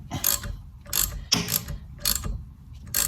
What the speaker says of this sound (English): So if I now tighten this bolt and I hold that nut flat, it should start to pull the bearing out.